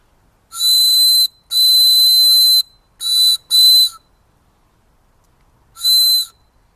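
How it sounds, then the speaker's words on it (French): A homemade water bird whistle, a bird call, sounds five shrill, warbling toots of varying length, loud and close, separated by short silences. "un petit sifflet"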